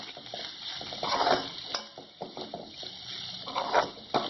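Grated coconut is stirred into bitter gourd sabji in a pan, with light scraping and clinks of a spoon against the metal, soft and intermittent with no talk.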